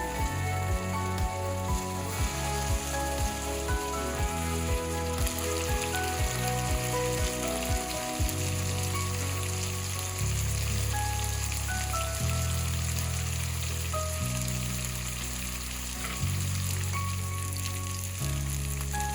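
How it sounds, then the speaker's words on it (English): Fish pieces frying in infused oil, a continuous close crackling sizzle with bursts of spitting, steady and fairly quiet with no voices. "Give it a last turn to ensure both sides of the fish are fried evenly."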